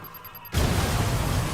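In the video game Watch Dogs 2, a loud explosion bursts in after a brief quiet moment with faint high beeps, then leaves a sustained, broad roar.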